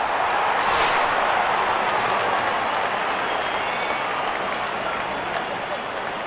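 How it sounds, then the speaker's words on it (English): Crowd noise in the Real Cricket video game after a six in a simulated Australia vs South Africa World Cup final: a broad, steady roar of cheering and clapping that holds at an even level throughout. "The crowd is enjoying every bit of this action"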